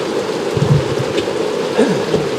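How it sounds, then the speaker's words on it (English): Steady rain pouring down outdoors by a patio with a grill, a constant close hiss of falling drops with no pause. "You guys hear the rain coming down?"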